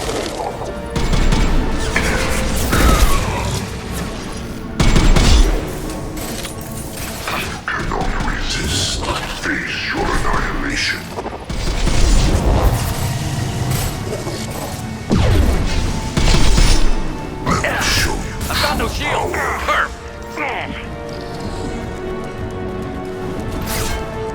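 High-impact gunshots in Mass Effect 2 Legendary Edition aboard the Collector ship, heavy booming blasts and crashing impacts repeating every few seconds amid dense combat noise, with voices talking over the action.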